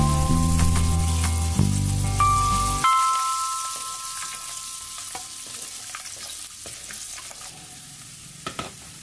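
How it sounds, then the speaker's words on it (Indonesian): Five garlic cloves frying in hot oil, giving a dense crackling sizzle with scattered pops, loud at the start and then thinning into softer, sparse crackles. "Goreng 5 siung bawang putih hingga layu."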